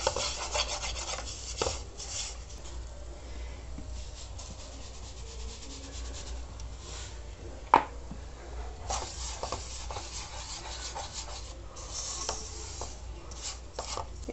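Cassava flour farofa being stirred in a pan: steady, soft scraping and rasping of a utensil through dry flour, close and continuous, with one sharper knock midway and no talking.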